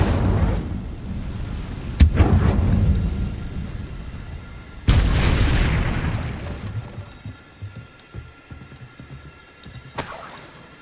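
Fire spell blasts in the game Hogwarts Legacy: two loud whooshing, crackling bursts a few seconds apart, each fading into a rumbling roar, with a third sharp burst near the end.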